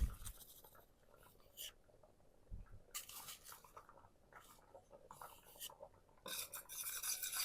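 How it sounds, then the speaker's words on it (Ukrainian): A spoon scraping and stirring agar-agar powder into a gooseberry marmalade mixture, in several separate bursts of scraping with quiet gaps between, close and fairly soft. "Розмішую, щоб не було грудочок"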